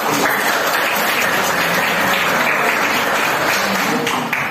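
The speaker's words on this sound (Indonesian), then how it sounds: "Silakan tepuk tangan untuk kelompok." A classroom audience applauds a student group loudly and steadily, dense clapping that fills the whole stretch without pause.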